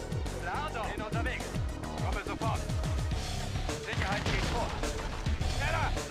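Gunfire in C&C Red Alert 2 as an ore miner comes under attack, rapid bursts of shots and explosive cracks layered over battle noise and music, with voice lines spoken over the action.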